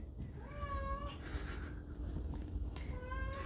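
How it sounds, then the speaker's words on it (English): A cat meows several times in a studio, close and fairly clear, with drawn-out wavering cries and a low steady background hum. "We need to stop for a moment because my cat's gonna destroy the studio."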